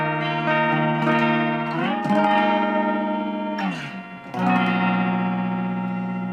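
Sustained electric guitar chords through a Boss pitch-shifter pedal, layered with a harmony a fifth above, ringing out with a brief change between chords.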